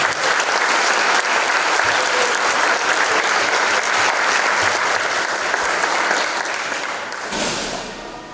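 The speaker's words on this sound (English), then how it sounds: "Another round of applause for our students." A large audience at a second-grade school concert claps steadily for several seconds, a dense, even wash of applause that slowly tapers off near the end.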